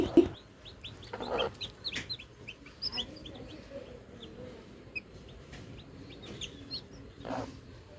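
Many newly hatched chicks peep in rapid, high chirps while a hen clucks low and softly nearby, the cheeping scattered and constant.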